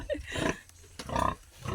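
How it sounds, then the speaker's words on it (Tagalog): Pigs grunting and snorting in their pen before feeding, a few close, loud, rough grunts in two bursts with a brief lull between them. "magpapakain muna tayo ng baboy"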